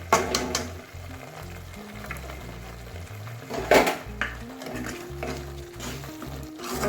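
Ginger garlic paste frying in a pan for dhaba-style shahi paneer, with clattering utensils and stirring scrapes over a low sizzle, plus a sharper clank midway, close and moderately loud.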